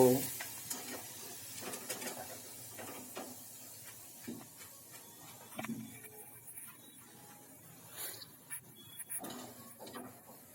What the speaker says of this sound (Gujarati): મકાઈના પૌવા વગેરે આપણે તળીને સરસ રીતે તૈયાર કરી રહ્યા છીએ